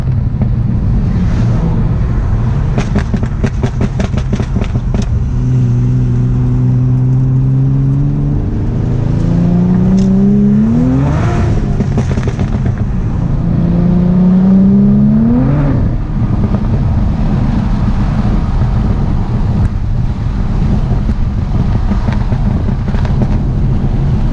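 A loud Audi B5 S4 engine, fitted with a new 3-bar MAP sensor and tune, revs repeatedly, rising pitch sweeps climbing and falling over a steady rumble, with wind buffeting the microphone throughout.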